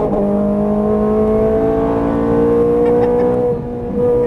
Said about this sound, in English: squeeze the throttle all the way down, hit it hard. Right hand upshift.